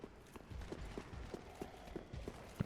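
Horse hooves clip-clopping in the video game Dark Souls 3, a steady rhythmic series of soft thuds at a moderate pace, fairly faint, with a brief voice at the very end.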